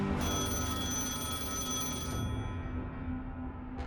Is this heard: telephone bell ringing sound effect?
yes